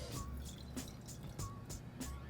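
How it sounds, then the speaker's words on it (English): Excess rinse water is dumped out of pour-over coffee equipment, giving a run of splashy drips and liquid gurgles in quick uneven bursts, close by and moderately loud, with no talking. "go ahead and dump this excess water out"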